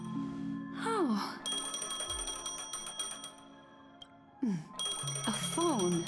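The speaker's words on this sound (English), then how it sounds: "A phone." A phone rings in a video game, a bright electronic ringing tone in repeated bursts, mixed with chirpy gliding sound effects and game audio.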